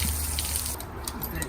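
Water running and splashing as a horse's coat is hosed down, a steady gushing spray that drops off briefly midway before resuming, close by.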